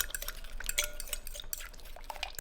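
Steak marinade with Worcestershire sauce being mixed, close and quiet, with soft irregular clinks and wet sloshing of a utensil against a dish.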